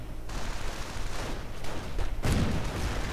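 A Stuka rocket artillery barrage in a World War II strategy video game, heard as a dense, rumbling wash of distant explosions that swells into a louder blast near the end, with no talking.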